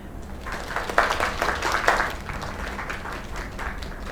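A smattering of clapping in the video game Lake, swelling briefly and then thinning out, with a faint hum in the background.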